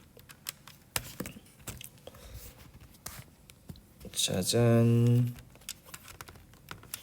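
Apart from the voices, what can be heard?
typing notes on a computer keyboard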